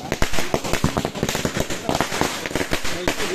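Firecrackers burst in rapid, irregular volleys of sharp pops at a Ganpati procession, loud and close, with crowd voices mixed in underneath.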